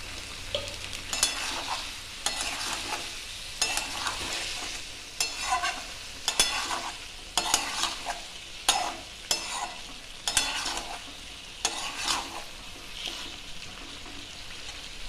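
Bone-in chicken pieces fry in a pan with bay leaves, a steady close sizzle broken by regular scraping stirs roughly every second, with no talking.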